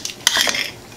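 A beef shank gets flipped in a hot pan: a sharp metallic utensil clack, then a brief rising sizzle and scrape, close and loud, lasting under a second.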